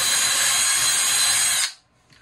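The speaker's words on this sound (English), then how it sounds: "Maybe drill the hole?" A power drill bores a hole in wood while fitting brass window stop bead adjusters, with a loud, close, steady high whine that runs for about a second and a half, then stops abruptly, leaving near silence.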